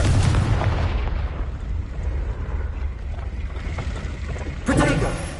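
Fiery Confringo blast spell cast in Hogwarts Legacy, heavy rumbling low boom at the start that decays into a sustained roar, with a second sharp burst near the end; loud and close.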